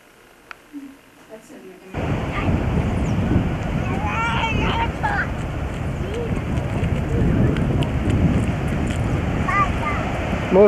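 Ocean surf on a beach in Lima, Peru, arrives after a quiet start as a loud, continuous wash with wind buffeting the microphone, and a few voices chatter over it.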